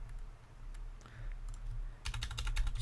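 Typing an SSH command on a computer keyboard: a few faint scattered keystrokes early, then a quick burst of rapid clicks near the end over a low hum, quiet and close, with no voices.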